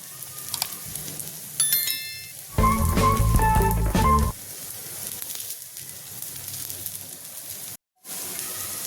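A crispy poha snack frying in just a little oil gives a soft, continuous sizzle throughout, briefly overlaid by a loud tonal hum in the middle and cut by a moment of silence near the end.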